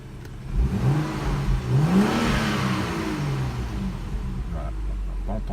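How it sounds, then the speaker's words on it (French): A BMW 335i xDrive F30 six-cylinder engine is blipped twice in quick succession, each rev rising and falling smoothly, then it settles into a steady low idle, heard from fairly close. "je vais accélérer un tout petit peu et vous faire écouter le joli bruit du 6 cylindres."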